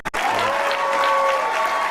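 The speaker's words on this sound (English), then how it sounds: "Ladies and gentlemen, please give a big round of applause for both teams." A crowd at a girls' lacrosse conference championship final applauds both teams, a thick, sustained burst of clapping with some cheering, following a sharp knock at the very start.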